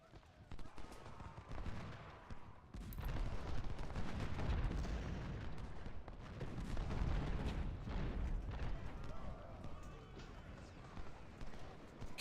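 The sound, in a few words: artillery and gunfire in video game Ultimate General: Civil War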